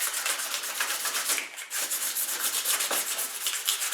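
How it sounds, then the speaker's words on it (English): Continuous 80-grit sandpaper rubbing by hand on a car body before Bondo filler, close and fairly loud, in quick back-and-forth strokes with one brief pause. "just rough it up with some 80 grit"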